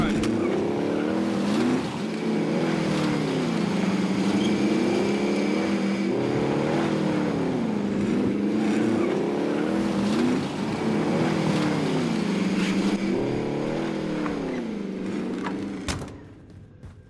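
A car engine drones steadily in Call of Duty Warzone, rising and falling as it revs and shifts while driving for many seconds before cutting off near the end, with occasional voices faint underneath.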